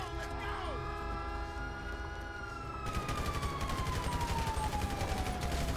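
Gunfire in the video game GTA 5 crackles as a rapid fusillade of shots, under a wailing siren-like tone and a droning background. The shooting grows denser and louder in the second half.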